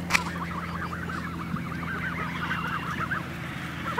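Several geese honk and call in a rapid, overlapping stream of nasal cries, fairly close and steady throughout, over a low background rumble with no talking.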